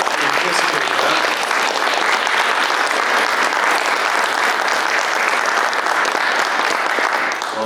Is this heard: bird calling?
no